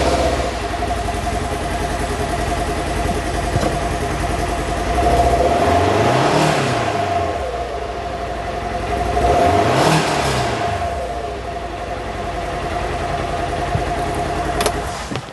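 The engine of a 2024 Polaris Xpedition ADV 5 Ultimate side-by-side runs steadily at idle, swelling twice into brief revs before dropping back to its steady hum, close and loud with no voices.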